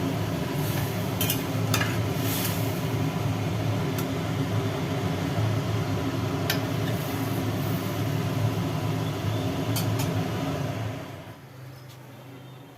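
Food being stirred in a wok-style pan just after a little water goes in, a steady low hum and soft scraping with a few sharp clinks, continuing for about eleven seconds before falling quieter.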